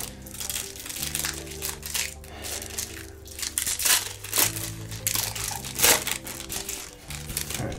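Trading card pack wrappers from a Topps Star Wars Bounty Hunters hobby box being crinkled and crushed by hand, a steady close crackling with sharper crunchy bursts, no talking.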